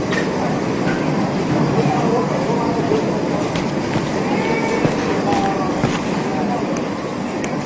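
Chinese high-speed train running steadily, a broad continuous rumble with faint rail clatter and occasional high squeals, loud and close throughout.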